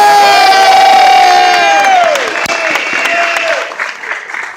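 Crowd at a political rally for a $15 minimum wage with the governor, loud clapping and cheering with shouts and whoops, near and strong, a voice sounding over the start before the noise eases slightly.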